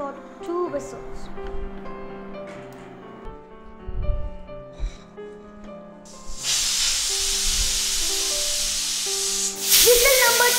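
A loud, steady hiss of steam bursts from a pressure cooker whistle while cooking rice, swelling louder near the end, after quieter kitchen clatter and faint talk.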